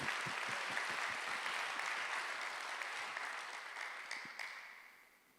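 Congregation clapping during a Sunday church service, a dense round of applause that holds steady and then fades out toward the end, with no talk over it.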